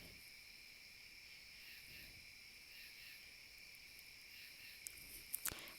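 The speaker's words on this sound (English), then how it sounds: "Yeah, the crickets are nice." Crickets chirp outdoors at night in a faint, steady, continuous trill, with a few soft taps near the end.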